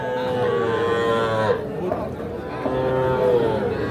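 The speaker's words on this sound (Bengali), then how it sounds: "এগুলো সবই ষাঁড় বাচ্চা।" Young bull calves at the Ambari cattle market moo loudly and close by, long drawn-out calls that overlap almost without pause, over a faint murmur of crowd chatter.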